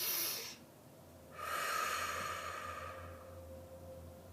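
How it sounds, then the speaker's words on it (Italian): A deep breath taken during a guided meditation, a short exhale followed by a long, slow, breathy inhale and release, close and soft, with no talk. "Facciamo un altro respiro profondo."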